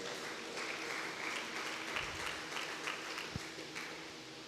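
A church congregation claps steadily throughout, a sustained wash of applause at moderate distance, with a single sharper knock near the end.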